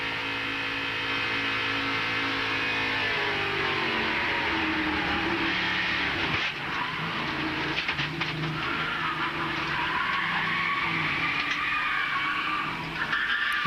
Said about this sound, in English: Hear the brakes on.